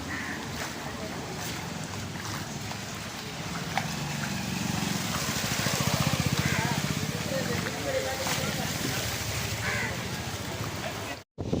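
Strong wind roars and buffets a microphone in a steady, loud rush during a rainstorm, with rain-like hiss and faint voices somewhere beneath.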